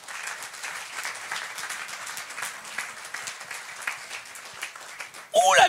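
A church congregation claps and cheers in praise, steady dense applause for several seconds, with a loud voice bursting in near the end.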